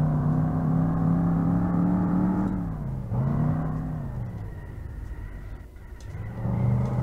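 Engine revving hard in the Revhead video game as a car is pushed through corners, the motor's pitch climbing, dipping briefly around mid-clip and then rising again, loud and continuous with no talking.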